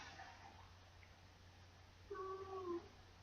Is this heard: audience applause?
no